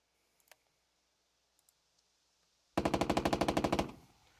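A rapid burst of machine-gun fire in the war strategy video game Burden of Command, about a dozen sharp, evenly spaced shots fired close and loud after a few faint clicks, then a short fading tail.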